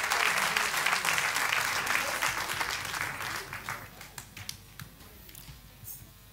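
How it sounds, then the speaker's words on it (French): An audience applauding saxophone players at a live music event, with brisk, dense clapping that gradually thins into scattered individual claps and fades out. "Alors on peut les applaudir très fort"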